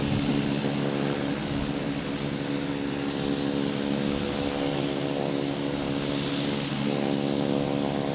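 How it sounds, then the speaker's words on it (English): Spirit Airlines Airbus A320 taking off from Boston Logan Airport, a steady loud engine roar with a low droning tone that holds throughout, heard from nearby with no talk. "Spirit Airlines taking off, an A320 heading to Myrtle Beach"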